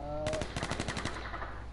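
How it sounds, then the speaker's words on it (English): Rapid burst of automatic gunfire in the video game H1Z1, about eight evenly spaced loud shots in quick succession, followed by a short fading tail over steady game ambience. "Who are you shooting at?"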